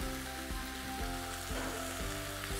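Tomatoes and salt sizzle in a pan of onion masala over high heat for an egg roast masala, a steady close frying crackle with a few soft stirring knocks and no voices.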